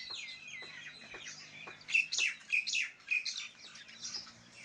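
Garden birds in a village yard chirping and calling nearby in a series of bright, repeated tweets, with fainter birdsong in the background.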